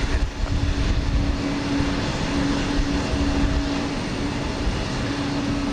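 A Boeing 787-9 Dreamliner operating flight 113 to Tokyo Haneda at Houston Intercontinental, heard as a loud, continuous jet engine roar with a steady humming tone running through it, unbroken for several seconds.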